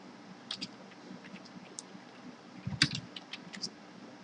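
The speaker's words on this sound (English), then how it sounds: "So let us type in ng source," Keystrokes on a computer keyboard tapped in short bursts with gaps between them, quiet and close, with one sharper louder clack near the middle and no talking.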